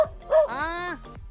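A dog gives a short yip followed by a drawn-out, rising-then-falling whine, near and fairly quiet, with faint low sounds around it.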